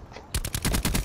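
Rapid automatic gunfire from the video game Black Ops 4, a dense burst of loud repeated shots that erupts after a brief quiet moment and keeps rattling steadily to the end.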